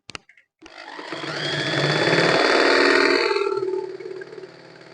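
A sewing machine running a test stitch starts after a couple of brief clicks, then hums in a steady whirring drone that builds, holds for several seconds and tapers off near the end, heard up close without speech.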